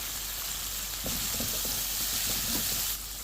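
Fresh mint and coriander leaves frying in a pan, a soft continuous sizzle with a few stirring scrapes and light crackles in the middle, fairly quiet and close.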